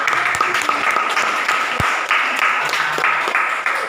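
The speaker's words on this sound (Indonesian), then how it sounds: "tepuk tangan dulu semuanya" Applause from students in a mathematics classroom during a teaching practice session in Merauke, steady clapping throughout with a few voices faintly under it.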